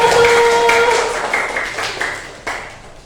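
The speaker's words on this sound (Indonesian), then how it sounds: "tepuk tangan untuk Putu" Brief, scattered clapping from a classroom group applauding a student named Putu, several separate claps fading out over a few seconds after a short voice at the start.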